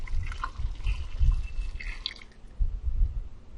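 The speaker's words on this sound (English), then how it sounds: "We take our hot liquid and we pour it over the cucumbers and the onions." Hot pickling liquid pours into a jar over cucumbers and onions, giving soft bubbling, dripping and glugging pulses that rise and fall at close range.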